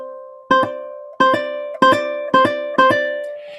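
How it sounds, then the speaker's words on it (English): Guitar hammer-ons ring out alone: five evenly spaced plucked notes, each followed quickly by a second note sounded by hammering a fretting finger onto the string, clear and close. "a hammer-on is basically this technique here"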